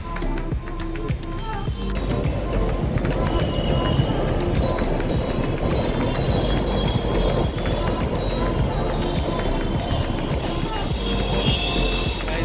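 A metro train runs past close behind, beside a hotel with a swimming pool, giving a steady loud broadband rumble and rush that holds evenly for the whole stretch, with faint voices mixed in.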